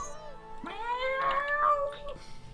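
A cartoon cat meows in South Park: The Stick of Truth, a drawn-out, rising-and-falling mewl that sits clearly over the game's quiet background music.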